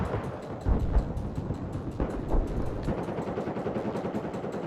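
Enemy machine gun fire in a video game, rapid rhythmic bursts of shots rattling steadily for several seconds at moderate distance, with no talk over it.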